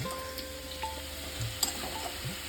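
Potatoes browning in a hot pan for aloo posto make a soft, continuous frying hiss, broken by a couple of faint clicks and scrapes from stirring, with no voices.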